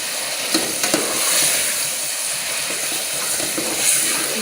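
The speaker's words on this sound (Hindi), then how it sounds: "ऐड कर लेने के बाद अब खूब अच्छी तरह इसको 3 से 4 मिनट भून लेंगे।" Mashed brinjal for baingan bharta sautéed in a pan, a loud, steady hissing sizzle with a few sharp scrapes of a spoon near the start, continuing evenly and with no voices.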